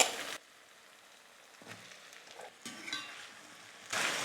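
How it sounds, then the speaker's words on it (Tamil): Flat broad beans sautéing in hot oil for a Tamil bean kulambu, a soft steady sizzle with faint stirring scrapes, louder bursts at the start and end, no talking. "அவரைக்காவை சேர்த்துட்டு நல்லா ஒரு 2 நிமிஷத்துக்கு எண்ணெயிலே வதக்கிக்கலாம்"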